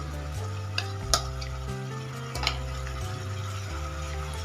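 Masala with chicken leg pieces sautéing in a pan, a loud, steady sizzle with a couple of spatula scrapes, a low hum underneath and no talking.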